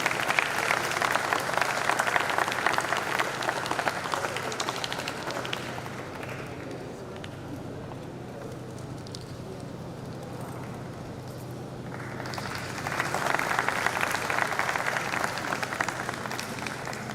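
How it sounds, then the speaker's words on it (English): Applause at a university convocation award ceremony, a large audience clapping steadily, easing off in the middle and then rising loud again toward the end. "give a big round of applause."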